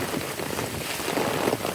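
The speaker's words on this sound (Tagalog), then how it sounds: "Pero grabe ang lakas ng ulan, no?" Heavy rain pours down in Madrid, Spain, a dense, continuous hiss and patter of drops close around, with no one speaking.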